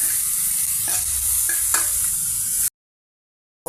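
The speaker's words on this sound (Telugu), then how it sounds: "ఇక మనం తురుముకున్న ఈ క్యారెట్ తురుముని అందులో యాడ్ చేస్తున్నామండి" Grated carrot fries in a pan with a steady sizzle and a few sharp stirring scrapes, then everything stops abruptly into silence.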